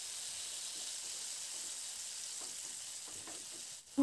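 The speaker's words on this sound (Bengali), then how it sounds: "তো লঙ্কাটা দিয়ে দেখুন নাড়াচাড়া করে লঙ্কাটাকে একটু ভেজে নিচ্ছি" Tomato, green chili and garlic fry in oil in a pan, a soft even hiss with faint stirring scrapes, ending in a sharp clatter.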